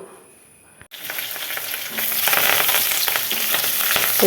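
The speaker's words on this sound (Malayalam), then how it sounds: "കടുക് വറുത്തെടുക്കുന്നതാണ്" Mustard seeds crackle and sizzle loudly in hot oil, tempering for a jackfruit seed thoran in a home kitchen, a dense continuous spitting that starts abruptly and grows busier with no talk.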